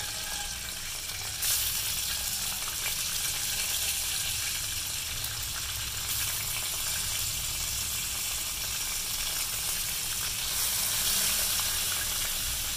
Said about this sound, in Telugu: చక్కగా చేపల్ని కడిగి కారం ఉప్పు పెట్టి ఒక హాఫ్ అన్ అవర్ నాననిచ్చేసి ఇలా నూనెలో వేపి పక్కకు తీసేస్తూ ఉంటాను